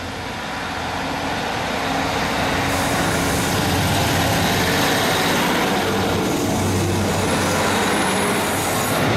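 A heritage railway train engine on the Dean Forest Railway at Lydney revs hard and pulls away, a loud continuous close-up roar and rumble that holds steady throughout with no talk.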